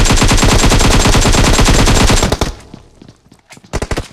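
Rapid automatic machine gun fire in PUBG Mobile rattles loud and close for about two seconds, then breaks off into a few scattered, fainter shots.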